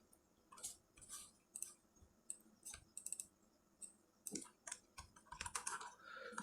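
Quiet, close typing on a computer keyboard, with irregular bursts of crisp key clicks and a few louder taps. No voices.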